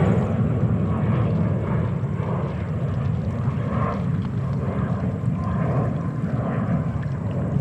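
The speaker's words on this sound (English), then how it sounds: "is Embraer 175, actually in the Republic Airways livery" A Republic Airways Embraer 175 airliner passes at JFK, a steady, moderately loud jet engine roar with a low rumble that holds throughout without talk.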